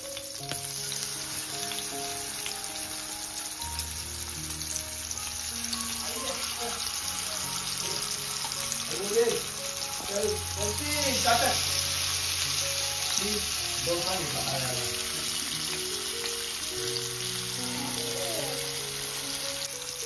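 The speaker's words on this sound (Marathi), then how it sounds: "चला आता आपण मच्छी सोडू तेलामध्ये." Fish frying in hot oil with garlic and curry leaves, cooked on a wood-fired clay stove, a steady bright sizzle that swells as the fish goes in, with clinks and a voice in the background.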